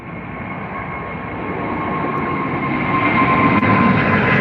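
Rolls-Royce engines of an Air India Boeing 777 at Heathrow give a steady, broad roar that swells gradually louder over the clip, with a faint tonal whine riding on top and no talking.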